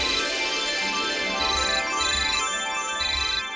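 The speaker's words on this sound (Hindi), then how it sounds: "किसका फोन है?" A phone ringtone plays its repeating electronic melody in a short looping pattern indoors in a Hindi household drama, loud and close, with no talking over it.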